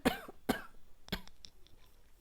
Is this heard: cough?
yes